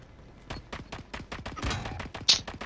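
Video game gunfire in scattered, fairly quiet single shots and short bursts, spaced irregularly across a few seconds.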